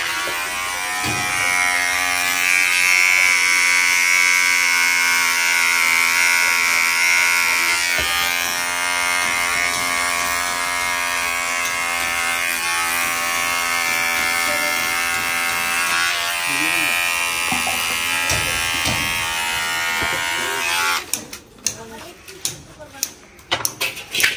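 Electric hair trimmer buzzing steadily at a barber salon while trimming a face, a continuous near whine for about twenty seconds, then breaking into short clicks and bumps as it stops.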